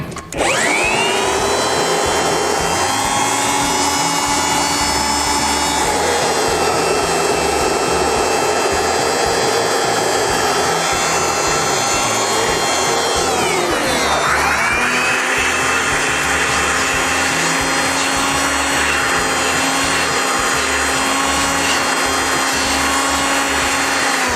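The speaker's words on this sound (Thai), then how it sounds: "รวมถึงตัวพัดลมเนี่ยเราก็เอาโบเวอร์นะครับเป่าสวนขึ้นไปได้เลยนะครับ" An air blower blasts air through a rice mill during cleaning, giving a loud, continuous roaring whine with a sharp dip and recovery in pitch about halfway through. No voices are heard.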